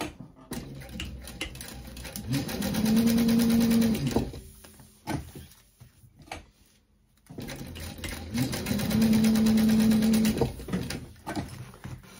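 A sewing machine stitches a backpack strap in two separate runs, each whirring up to a steady, rising motor tone for a couple of seconds before stopping, with quieter handling noises in the pauses.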